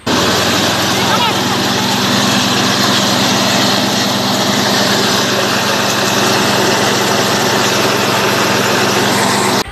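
A huller machine shelling Robusta coffee in Toli-Toli runs loud and steady at close range, its engine roaring continuously throughout while a voice talks over it.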